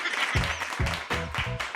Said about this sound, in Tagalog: Grabe naman, pumalakpak kagad